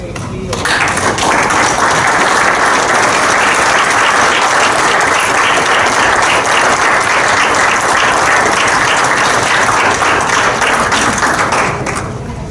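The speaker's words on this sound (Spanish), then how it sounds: "Por el aplauso se dice todo" Loud, sustained applause from a large audience, a dense roar of clapping that swells in quickly and holds steady for over ten seconds before cutting off, with faint crowd voices mixed in.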